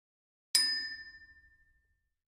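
A small toy gong struck once, a bright ringing strike with a shimmering metallic tone that decays slowly over about a second and a half, close and clear in a quiet room.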